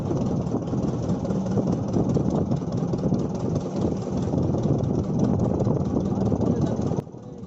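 A high-speed boat races across the sea after Cyclone Nivar, its engine a loud, steady drone that holds without pause and then cuts off abruptly near the end.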